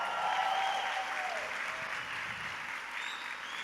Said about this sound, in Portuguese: Você pode dar uma salva de palmas para isso?